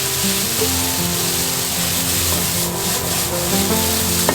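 Fried rice with scallion being stirred and tossed in a hot pan, a steady close sizzle with scraping and rubbing of the utensil running the whole time, no talk over it.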